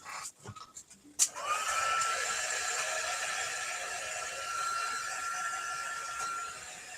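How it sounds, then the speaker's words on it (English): After a few clicks, an embossing heat tool switches on and blows a steady, moderately quiet whirring hiss with a faint high whine, aimed at stamped ink on card. "I'm going to take this over to my heat tool and just heat it with that a little bit"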